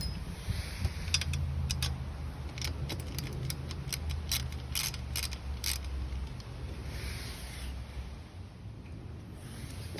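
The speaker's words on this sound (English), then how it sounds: "Easy Up tents use a 7/16 inch bolt, so have a socket and a wrench ready to do this." A socket wrench turns a 7/16 inch bolt on an Easy Up canopy tent frame, making a quick, close series of light ratcheting clicks that fades to quieter ticks later, over a steady low hum.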